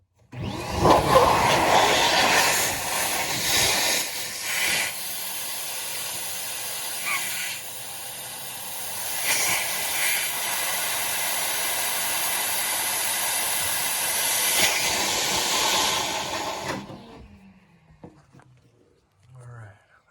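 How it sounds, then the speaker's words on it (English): Air blasts through a Carrier Ultra Low NOx gas furnace during maintenance, a loud, steady rushing hiss that holds for about seventeen seconds with brief dips, then stops, leaving faint rustling. "So I like to vacuum it and then blow it out a little bit."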